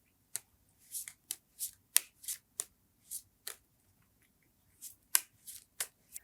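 Playing cards are shuffled and riffled in a string of sharp, crisp bursts, some quick and clustered and some spaced apart, close and clear with no talking.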